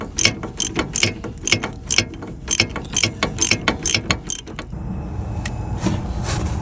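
Hand ratchet loosening a sway bar link bolt on a 2013 Audi Q5, rapid rhythmic clicking in quick back-and-forth bursts, close and crisp, then stopping, leaving low shop background noise with a faint clink or two.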